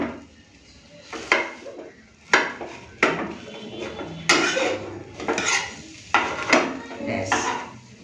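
An omelette is cut into four pieces in a pan, heard as a series of sharp metallic scrapes and taps of a utensil against the pan, spaced irregularly with quiet gaps between them.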